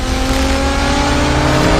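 A beat-up delivery Evo car accelerates past at speed, a loud, close engine roar with a rising whine that holds steady through the moment, with no voices over it.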